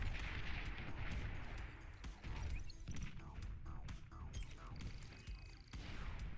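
Artillery volley in the real-time strategy game Beyond All Reason, a Janus unit firing on tanks: a dense run of sharp, loud blasts and crashes spread across the battle, mixed with rumbling impacts and faint talk.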